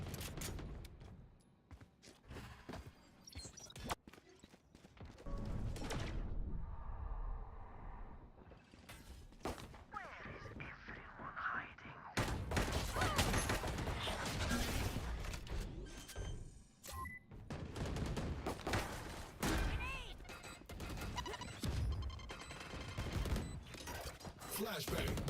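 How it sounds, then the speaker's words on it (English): Video game match audio with rapid bursts of gunfire and a smoke grenade launch, loud and dense throughout, with a quieter stretch midway and voices talking over parts of it. "Launching smoke."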